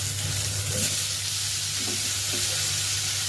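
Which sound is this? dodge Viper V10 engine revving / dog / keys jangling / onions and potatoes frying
onions and potatoes frying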